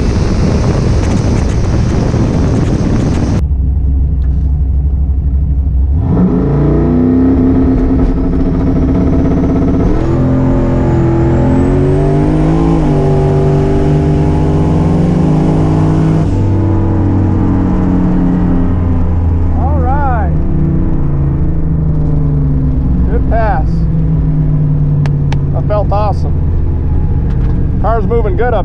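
Turbocharged LS-powered Camaro makes a no-prep drag racing pass, a loud, sustained engine roar that climbs in pitch through the gears, heavy with wind buffeting, then fades as the car slows.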